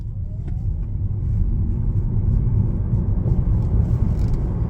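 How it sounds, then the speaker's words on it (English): A Chevy Volt Premier braking hard to a stop under ABS, a close, steady low road rumble and tire noise that fades slightly as the car slows, with no talking. "ABS grabs us and pulls us right to a stop."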